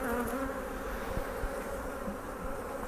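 A dense, steady buzzing of many honey bees fills the air, close and continuous, like a busy hive.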